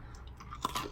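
Someone chews a crunchy oats and honey granola bar close up. There are quiet bites followed by two sharper crunches in under a second.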